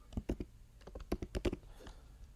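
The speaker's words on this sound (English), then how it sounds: "Can't seem to get my typing game on." Quick bursts of keystrokes on a computer keyboard, close and crisp, tapping in uneven clusters with short pauses between them.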